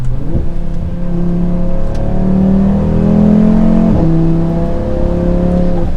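A 2024 Audi RS3 with a turbocharged five-cylinder engine accelerating hard, a loud close-up rising engine drone that climbs steadily in pitch with a brief shift dip, continuous throughout with no talking.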